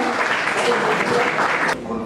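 Applause at an academic literature colloquium as a poet is welcomed to the table, a full, close round of clapping that stops abruptly near the end, leaving quieter room sound and a voice.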